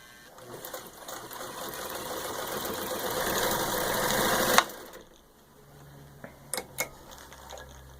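A serviced, rewired vintage Singer 66-16 Anniversary sewing machine with a cleaned pedal and new belt runs in a steady, close whirring hum that swells for about four seconds, then stops abruptly, followed by a few faint clicks.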